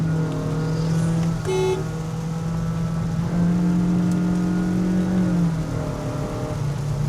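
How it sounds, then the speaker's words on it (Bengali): A Honda BR-V car engine drones steadily up close, its low hum swelling slightly as the revs rise, with a brief chime partway through. "এটা কিন্তু ফেক সাউন্ডস না, এটা অ্যাকচুয়াল ইঞ্জিন সাউন্ড"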